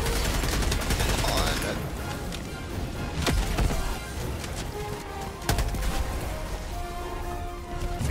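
Rapid bursts of gunfire from the video game Helldivers, a dense, continuous battle din with a few sharper cracks standing out, loud and close throughout, with in-game voices mixed in.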